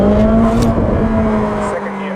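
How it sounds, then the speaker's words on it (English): A Ferrari 458 Speciale V8 accelerating hard at full throttle in sport mode, kicking down from fifth to second gear; a loud, steady close-up engine drone with a strong tonal hum that rises as it pulls. "if I floor it, it will change from the 5th gear to what?"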